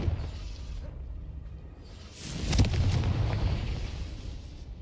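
A Confringo fire spell bursting in Hogwarts Legacy: a single booming explosion with a crackling rush lands midway, after a low rumbling bed, and its roar lingers to the end.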